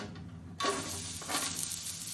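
Sudden loud sizzle bursts in as onion hits hot oil, then a steady crackling fry continues with a second surge partway through.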